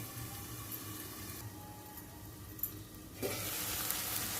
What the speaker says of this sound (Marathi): टमाटर आपण छान परतून घेतला